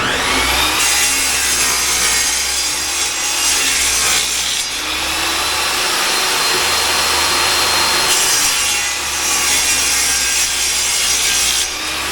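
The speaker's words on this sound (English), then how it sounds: "Back to the miter saw we go." Miter saw cutting wood, a loud close rasping, whining cut lasting several seconds, easing briefly in the middle and resuming, heard alone without voices.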